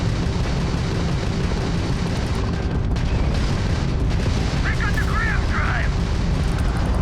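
Enemy missiles and explosions hitting a ship in Starfield, with dense rumbling booms and crackling impacts running continuously and loud, while a voice talks over them.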